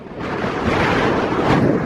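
Steady, loud wind buffets the microphone at the Ridgeway henge, a continuous broadband rush with no pauses and no voices.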